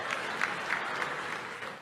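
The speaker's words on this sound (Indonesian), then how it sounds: "Nggak usah tepuk tangan." Congregation applause during a church sermon, a steady wash of clapping filling the whole short span at even loudness with no clear individual peaks.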